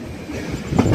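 A train rolling over a railway bridge near Sakleshpur, a steady rumble of wheels on rails that swells louder toward the end of the moment.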